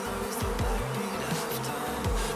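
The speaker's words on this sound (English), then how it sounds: "Play my bee sound effect!" A bee buzzing sound effect, a loud close drone that wavers up and down in pitch with no pauses throughout.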